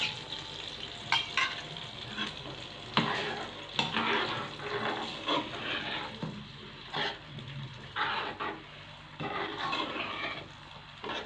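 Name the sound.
eggs being added to a hot pan for shakshuka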